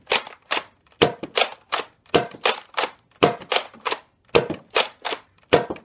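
Nerf shotgun-axe blaster firing official yellow Rival foam balls, a rapid string of about fourteen sharp, loud snapping shots in quick pairs and bursts, each with a brief mechanical clatter, close up with no talking.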